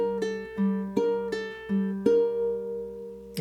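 A ukulele measure packed with consecutive pull-offs from one chord shape, quick plucked notes ringing into each other in a lilting pattern, roughly seven attacks, close and unaccompanied.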